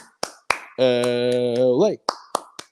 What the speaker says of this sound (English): Bruins fans, get your hands up. A-clap time, baby.